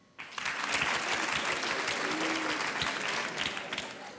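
Women in a comedy show audience break into applause after a short lull: a sudden, full burst of clapping from a sizable crowd that stays steady, then eases slightly toward the end.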